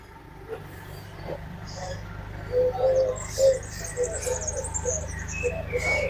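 Birds call and coo faintly in the gardens of mini villas among pine trees in Modena, Italy, with soft repeated notes over a low steady city hum and no talk.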